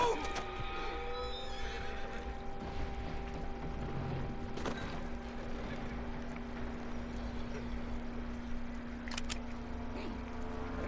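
A horse in the video game Red Dead Redemption 2 gives a few short whinnies early on, followed by a brief neigh later, over a steady low background hum with no talk.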